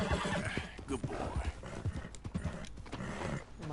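Galloping horse hooves in the Red Dead Redemption II video game, a fast, close clip-clop rhythm with a neigh breaking through, heard mostly alone with little talk.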